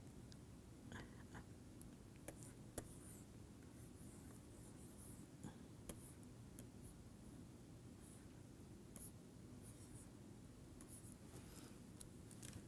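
A stylus writing on the screen of a touchscreen PC makes a steady, faint scratching that runs continuously under a low background hum, with occasional small taps.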